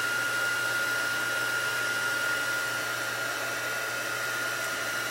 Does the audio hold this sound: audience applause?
no